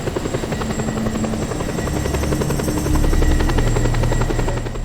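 Helicopter in the video game Just Cause 2, a steady whirring rotor chop with a constant engine buzz, loud and close, swelling slightly toward the end with no talk.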